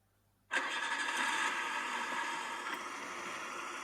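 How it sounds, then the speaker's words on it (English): A car engine cranks and catches abruptly after a quiet moment, then runs loud and steady as it settles toward an idle. "That is a car."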